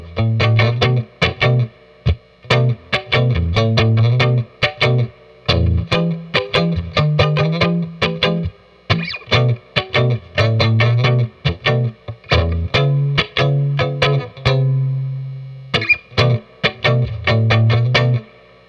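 A Fender Vintera III Jaguar electric guitar played on the bridge pickup with the mute engaged and a touch of amp reverb gives short, choppy, palm-damped notes and chords in a quick stop-start rhythm, loud and close with no talking.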